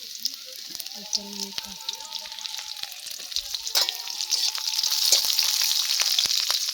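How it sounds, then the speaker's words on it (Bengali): Steady sizzling of chopped garlic and spices frying in hot oil, a continuous crackling hiss with occasional stirring clinks, growing slightly louder toward the end. "কুচনো করে রাখা রসুন দিয়ে সেগুলোকে একটু পরিমাণে ভেজে নেবে"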